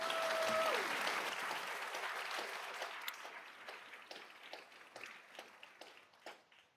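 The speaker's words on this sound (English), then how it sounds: "A big round of applause" A school board meeting audience claps for McCray Elementary, a dense round of applause at first that slowly thins into scattered, fading claps, with faint voices underneath.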